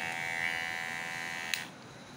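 An electric hair trimmer runs with a steady, close, fairly loud motor buzz carrying a harmonic whine; a brief click sounds near the end as it cuts off, leaving a quieter hum.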